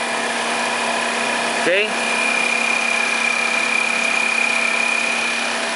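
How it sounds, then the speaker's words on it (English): A YFM-302NCA computer-controlled high-speed nylon sewing machine runs automatically with a steady mechanical hum and a sustained high whine, briefly interrupted near the start by a short spoken word. "the start, and the machine will be auto running."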